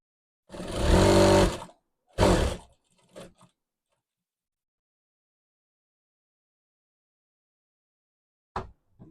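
A sewing machine stitches a pant pocket with a short run of motor hum, then a second brief burst and a few quick stops, followed by long silence and a final click, close by.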